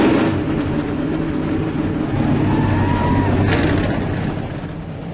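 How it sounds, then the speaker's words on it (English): Race car engines fire up at Charlotte speedway, a loud, dense roar of many motors blending into a continuous rumble that swells and then eases slightly toward the close. "Drivers, start your engines!"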